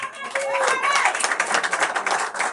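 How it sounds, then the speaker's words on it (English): Audience at a homecoming concert clapping hands: dense, steady applause rattles on for a couple of seconds, mixed with voices and a faint tonal sound near the start. "Can you please give another big hand clap?"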